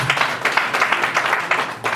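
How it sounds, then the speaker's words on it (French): Audience applause at the launch of a political coalition for progress and democracy, a dense burst of clapping heard close and loud with no voices over it. "Je veux qu'on applaudisse vraiment la qualité."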